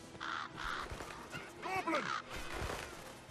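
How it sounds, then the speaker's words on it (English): Crows caw in a shadowy forest area in the game Dragon's Dogma, a few harsh repeated calls at moderate distance, with a voice talking over them. "There's a bunch of crows there."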